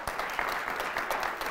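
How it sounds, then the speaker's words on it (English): An audience at a televised high-school quiz show applauds the Christian Life Eagles team, dense steady clapping from a crowd throughout. "Let's have a nice round of applause for the Christian Life Eagles."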